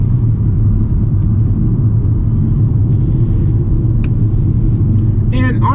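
A 2021 Kia Forte LX-S engine with a CVT rumbles steadily as it accelerates around a corner, a smooth continuous drone with no distinct gear shifts, loud and close.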